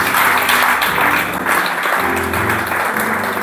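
A church congregation applauds during a sermon, a dense, loud, sustained wash of clapping with a low instrumental hum underneath.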